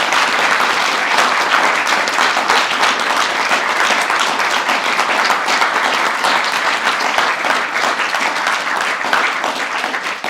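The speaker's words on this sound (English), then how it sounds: "we deserve to give our 3 speakers a further round of applause" An indoor audience at a public launch event gives a sustained round of applause for three speakers, dense and loud steady clapping throughout.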